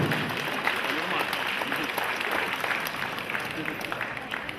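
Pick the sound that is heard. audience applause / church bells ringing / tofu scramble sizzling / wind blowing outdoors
audience applause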